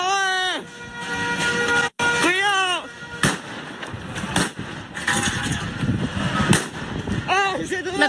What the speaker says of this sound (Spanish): Un sujeto enloquecido sale a disparar con un arma a todo lo que se movía.